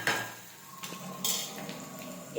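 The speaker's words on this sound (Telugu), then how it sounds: "ఇలా వేసేసుకొని కలుపుకోవాలి." Onions being stirred in a pan, with soft scraping and clinks of a utensil against the metal and a faint sizzle underneath, short and close.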